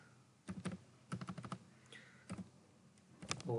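Computer keyboard typing in bursts as a program is entered, quick clustered keystrokes close up with short pauses between runs and no talking.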